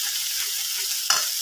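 Dried fish frying with tomato in a pan gives a steady, close hiss of sizzling oil, with one sharp scrape of a stirring utensil partway through.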